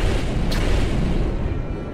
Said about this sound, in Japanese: 大砲撃て！